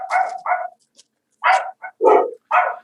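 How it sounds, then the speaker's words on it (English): Dogs bark in several sharp, close bursts with short pauses between them, a mix of yips and deeper woofs heard alone without talk. "Those are my dogs, by the way."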